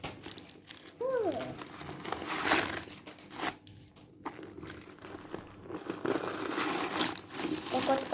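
Paper crinkles and rustles close up as a new bag is unboxed, with irregular crunching handling noises and a voice briefly in the background.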